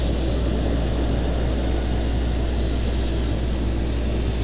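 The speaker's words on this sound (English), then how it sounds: "Here's our FedEx ATR." A FedEx ATR turboprop at Raleigh-Durham International gives off a steady, loud propeller drone with a deep low hum, constant throughout and heard alone without voices.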